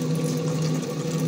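Water from a Kangen water 9.5 ionizer machine runs steadily into a cup, a continuous close pouring and filling sound that holds an even level throughout.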